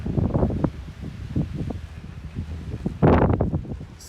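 Gusty wind buffets the microphone high in the Vermont mountains at a ski area, a steady rumbling roar that swells in uneven surges and peaks in a sharp, loud blast near the end.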